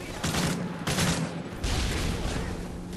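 Rapid bursts of gunfire in Call of Duty: Modern Warfare 3, loud and close, firing in quick repeated volleys with short gaps.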